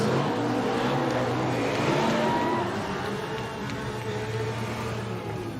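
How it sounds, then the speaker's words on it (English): Formula Drift cars performing celebratory burnouts after the final at Orlando Speed World, a steady dense engine roar with tyre noise, loud and continuous throughout. "Celebratory burnouts for the boys."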